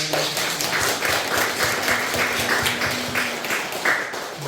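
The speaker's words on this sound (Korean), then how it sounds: "박수 한번 해주시고" A church congregation claps together, steady sustained applause for several seconds, with no one speaking over it.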